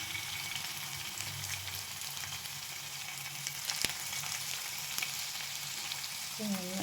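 Crushed garlic and small onions hitting hot oil in a pan, giving a steady, close sizzle and crackle that holds across the whole stretch, with a faint clink near the end.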